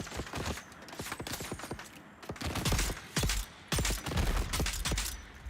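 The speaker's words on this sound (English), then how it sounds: "Oh, you're shooting from up there." Gunfire in the Dune: Awakening video game, with rapid, dense volleys of sharp shots crackling continuously and close, interrupted only by brief pauses.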